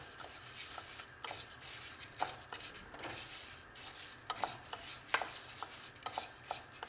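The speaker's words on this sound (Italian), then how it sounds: "In una casseruola metto un filo d'olio, faccio riscaldare leggermente e aggiungo il riso che faccio tostare." Rice toasting in a thin film of olive oil in a casserole pot, with soft steady sizzling and repeated scraping stirs of a spoon against the pan, close and moderately quiet with no talk.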